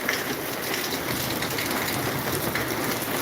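Heavy rain pouring down in Maharajpur, a dense, even roar of falling water that is loud, close and unbroken throughout, with no voices.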